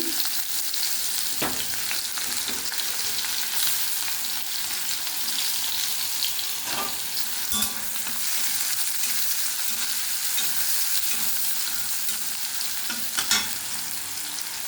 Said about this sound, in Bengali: পেঁয়াজটা ভাজা হয়ে যাবে।